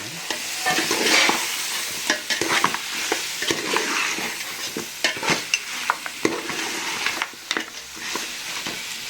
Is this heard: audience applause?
no